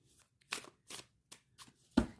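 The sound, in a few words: shuffling a Lucid Dreams tarot deck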